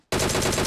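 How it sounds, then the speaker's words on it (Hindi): Automatic gunfire in a squad-versus-squad mobile battle game on the Ancient Secret map: a loud, close burst of rapid shots that cuts in suddenly and runs steadily to the end, with no talk over it. "रावण फायर देना।"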